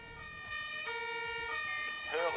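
An ambulance siren wails steadily in the Emergency 4 game, Bieberfelde Bayern 2.0 submod, arriving at a cordoned-off crime scene, sustained and fairly loud with a pitch sweep near the end.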